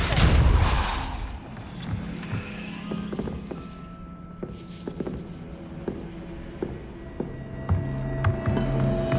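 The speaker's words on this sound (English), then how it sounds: "Incendio." An Incendio fire spell cast in Hogwarts Legacy on PC: a loud, roaring whoosh at the start fades into a low rumbling hum, followed by scattered soft footsteps and faint clicks.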